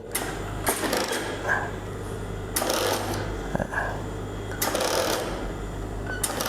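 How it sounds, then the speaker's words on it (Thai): A Union Special felling sewing machine stitches denim in bursts, each a busy mechanical whir lasting about a second with short pauses between, set over a steady hum of workshop machinery. "คันนี้คือจักรห่อนะครับยูเนียนสเปเชียล จักรคันนี้จะทำหน้าที่ห่อนะครับ"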